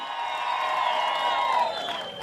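An outdoor political rally crowd in Kaiti, Makueni County cheers and applauds, a broad roar of voices with whoops and a high sustained shout riding over scattered clapping, steady and fairly loud throughout.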